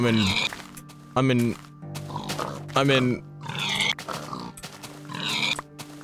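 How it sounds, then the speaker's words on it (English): Pigs in the blocky survival game Minecraft Beta grunt and oink several times in short separate calls, close and clear, mixed with a player talking over them. "There are so many pigs."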